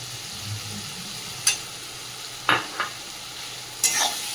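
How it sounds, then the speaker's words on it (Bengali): Ground cumin and coriander masala paste stirred and fried in a pan while cooking a meat curry, a soft steady sizzle broken by a few sharp spoon scrapes against the pan. "দিয়ে ভালো করে মশলাটাকে কষিয়ে নেব"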